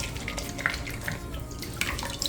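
Tap water runs and splashes while a felted wool egg is rinsed, a soft continuous trickle with brief drips and splashes close by, no voices.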